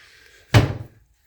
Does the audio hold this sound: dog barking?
no